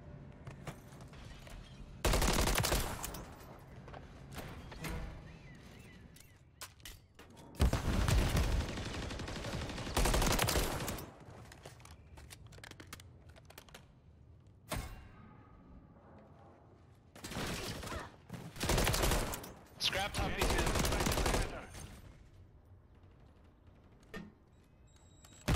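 Bursts of gunfire from an AR in a ranked first-person shooter match, several loud volleys of rapid shots separated by quieter stretches of game noise.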